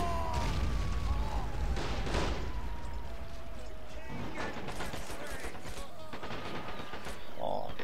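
Gunfire and artillery crack through a Men of War Assault Squad 2 multiplayer battle, with dense overlapping shots and booms under continuous voice chatter throughout.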